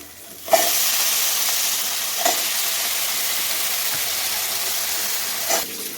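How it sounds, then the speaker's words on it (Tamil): Carrot, beans, peas, potato and drumstick pieces sautéing in a pan, a steady close sizzle and hiss with a few soft stirring scrapes, no voices over it. "இதில் வந்து இந்த காயெல்லாம் போட்டு வதக்கிடலாம்."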